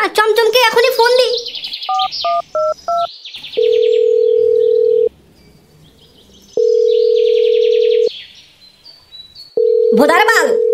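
A phone call rings out in a cartoon: repeated long electronic ring tones with pauses between, preceded by short dialing beeps and chirpy cartoon sounds, with a voice at the start.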